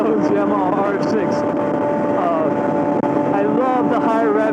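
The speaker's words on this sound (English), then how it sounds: "I love the high revving sound of the engine. It is beautiful." A Yamaha R6 motorcycle with a full M4 exhaust on a ride, its engine droning loud and steady under wind rush, with a rider talking over it.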